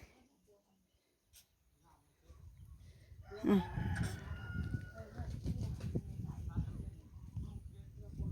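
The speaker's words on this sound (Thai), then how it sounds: "มีเป็ดมีไก่หร้ายนะ" Chickens clucking and a rooster crowing among ducks and hens at a Thai village yard, moderately close and fairly steady, mixed with people talking and background activity.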